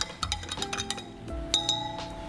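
A spoon clinks against measuring glasses while stirring detergent solution, with a quick series of bright, irregular taps and rings, close by and without speech.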